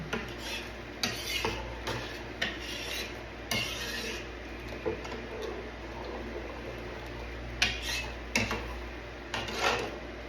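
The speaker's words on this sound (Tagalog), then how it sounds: "So, haluin natin." Oatmeal soup (shurba) stirred in a pot: repeated scraping and rasping strokes of a utensil against the pot in an irregular rhythm, close and fairly quiet, with no talk.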